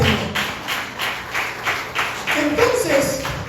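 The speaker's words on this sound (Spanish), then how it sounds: "Den un aplauso al Señor." A church congregation claps together in a steady, rhythmic beat during a worship service, the even claps close and moderately loud, with a voice briefly heard over them.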